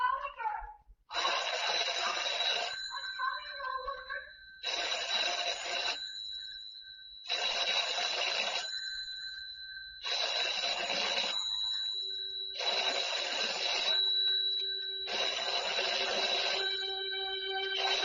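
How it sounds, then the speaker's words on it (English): A telephone rings in an empty house, six long, loud bell-like bursts repeating at an even pace with short gaps between them, and no one answers. "Telephone ringing in an empty house."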